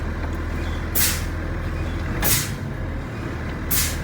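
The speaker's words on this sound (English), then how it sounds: "We're going to pump the brake 3 times." Air brake pedal on a truck pumped three times to release pressure, each press giving a sharp hissing burst of air at roughly one-to-one-and-a-half-second intervals over a steady idling engine rumble.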